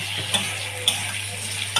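Potatoes frying in oil in a pan give a steady close sizzle, broken by a few sharp clinks of a utensil against the pan, with a low hum underneath.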